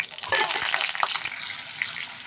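Hot oil sizzles and crackles as cinnamon, cloves and bay leaf hit the pan, with a few sharp pops and a stirring scrape, no talking.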